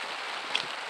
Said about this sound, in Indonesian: hujan parah guys. Udah hujan nih guys.